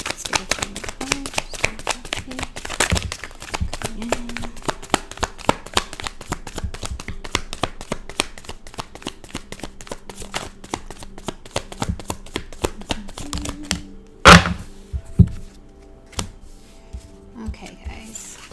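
Tarot cards shuffled by hand in a long run of rapid riffling and crisp flicks, close and steady, with a few louder slaps and taps near the end and faint background hum.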